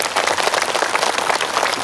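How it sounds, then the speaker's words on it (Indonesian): A crowd at a charity gathering claps for Pertamina, a brisk, dense burst of applause that stays loud and even throughout. "Tepuk tangan untuk Pertamina."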